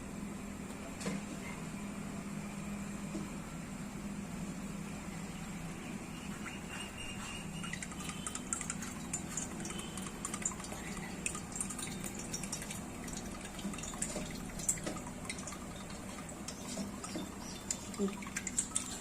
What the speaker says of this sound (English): So I had poured this much of oil to it